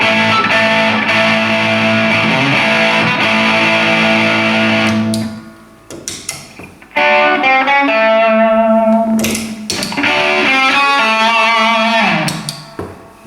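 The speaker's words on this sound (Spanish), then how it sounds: "el distorsionador tiene otro sonido." Electric guitar runs through a distortion pedal, starting with a dense, sustained chord wash, then a brief pause and choppy stabs before thick saturated riffs return, loud and close, no speech.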